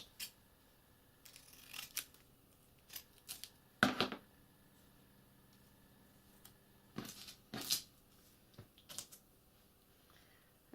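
Scissors trimming excess masking tape along an edge while crafting a scrappy squirrel figure, a scattered series of quiet, crisp snips and rustles separated by pauses, close and faint.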